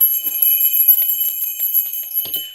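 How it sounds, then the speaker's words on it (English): A small hand bell rung repeatedly, bright sustained high ringing tones that shimmer continuously with light clinks and handling knocks underneath, close and loud. "that's the bell today"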